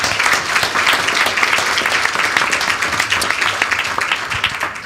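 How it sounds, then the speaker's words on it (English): A school board meeting audience applauds the students, steady dense clapping that stays loud and continuous throughout with a faint murmur of voices underneath. "So give them one more round of applause."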